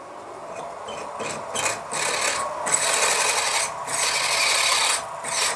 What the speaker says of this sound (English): we need the drill or the machine running backwards